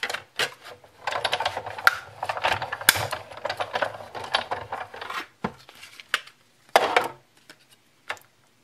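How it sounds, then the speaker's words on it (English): A die cutting machine feeds through a cardstock piece with a stamped design, producing bursts of rapid mechanical clicking and ratcheting separated by short pauses, close and fairly quiet. "I'm going to run that through my die cutting machine."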